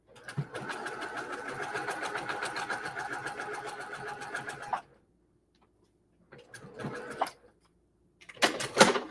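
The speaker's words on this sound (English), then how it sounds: "pull the pin before I sew over it" A sewing machine stitches a quilt block in a long, close, rapid rhythmic run, then stops, with a brief second burst and a final short spurt of stitching after the pause.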